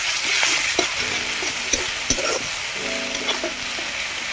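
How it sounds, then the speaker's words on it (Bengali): Two large chopped onions frying in fish oil in a pan, a continuous close sizzle with intermittent spatula stirring clinks and scrapes, no talking. "এই তেলেই আমি কুচনো দুটো বড় সাইজের পেঁয়াজ দিয়ে দেবো দিয়ে পেঁয়াজটাকে লাল লাল করে ভেজে নেব"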